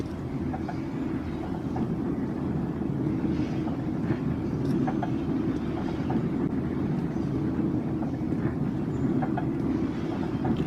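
A train in the video game Metro 2033 rolls along its rails with a steady low rumble and faint rhythmic clatter, continuous and fairly close, with no voices over it.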